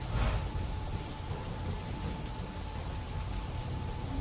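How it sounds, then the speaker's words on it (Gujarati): Steady rain falling across industrial GIDC areas of Ankleshwar, a constant close hiss of drops on surfaces with no voices. "અંકલેશ્વર જીઆઈડીસીના વિવિધ વિસ્તારોમાં વરસાદ વરસ્યો"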